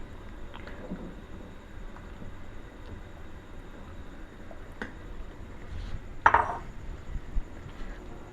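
A spoon stirs homemade beef nihari in a pot over a high flame, with faint, scattered scrapes and metallic clinks against the pot over a low background hum, including a slightly louder clatter midway.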